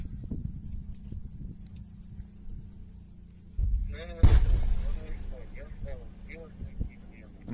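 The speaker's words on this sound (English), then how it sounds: "We hear the tank fire another shot, which then hits further down the tree line to the left." A tank fires a shell during fighting in Ukraine: one loud, sharp boom bursts out midway through steady background noise and rumble, and voices are heard talking throughout.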